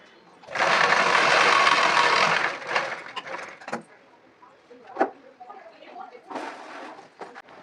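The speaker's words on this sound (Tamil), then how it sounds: "ஃபோல்ட் பண்ணிவிட்டு மொத்தமாக ஸ்டிச் போட்டு எடுத்துக்கோங்க." Sewing machine stitching a folded fabric sleeve edge, a loud steady whir for about two seconds, followed by scattered clicks, cloth handling and knocks from the work.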